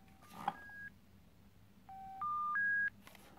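Dialing tones from a 1988 Philips MCR40 ETACS bagphone: a short series of steady electronic beeps at shifting pitches, moderately loud over a faint background hum with no talking.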